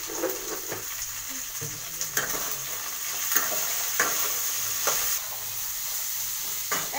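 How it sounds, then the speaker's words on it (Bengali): Gobindobhog rice and vegetables frying in a pan with a steady sizzle and hiss, broken by occasional scrapes and knocks of stirring, close and continuous. "একবারে সব ভেজে নেবো"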